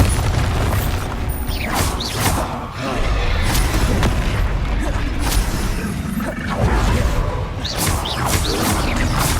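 Repeated Bombarda blasting-spell explosions in Hogwarts Legacy, loud booming bursts and crashes arriving every second or two amid continuous combat noise, with a voice shouting between them.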